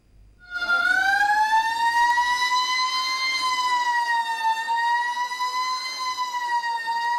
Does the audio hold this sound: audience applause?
no